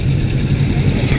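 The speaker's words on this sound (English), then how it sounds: "All I hear is the intake and the engine." A 2018 Kawasaki Ninja 400 motorcycle on a ride, its engine and intake producing a loud, steady mid-range drone with little exhaust note, heard close and alone.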